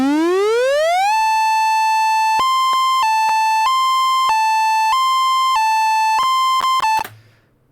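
Synthesized tone made in FL Studio as the base for a Siren Head sound effect: a loud pure tone sweeps upward, then steps between two pitches in a stuttering pattern before cutting off abruptly.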